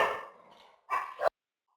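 Dogs frightened by thunder give two or three short, sharp barks close by. The barks come in quick succession and then stop, with no talking.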